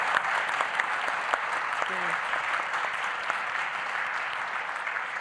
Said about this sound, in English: bravo, yes, a round of applause.